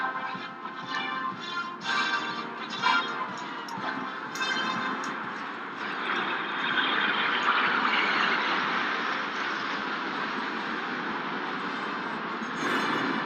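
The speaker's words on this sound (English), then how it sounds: "Here come the Tornadoes." RAF Panavia Tornado jets pass overhead in a centenary flyover at Buckingham Palace, a distant broad roar that swells steadily and stays loud as they approach.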